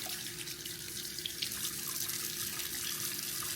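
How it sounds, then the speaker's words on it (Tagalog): Squishy toys are washed under a running tap, a steady close hiss of flowing water with faint splashes and rubbing throughout, and no talking. "gusto ko din itong hugasan itong mga squishy ni Chloe kasi dinala namin ito sa may dagat"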